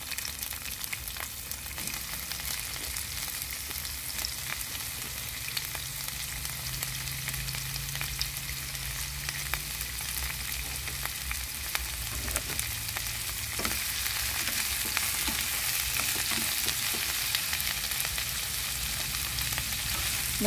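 Steady sizzling and crackling of bitter melon stir-frying over high heat in a hot pan, moderately close, with occasional scraping, no talking.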